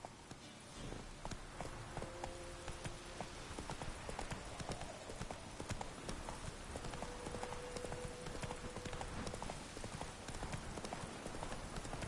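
Steady clip-clop of the horse Roach's hooves galloping in the video game Witcher 3, a fast continuous rhythm of hoof beats running throughout, with faint background music tones.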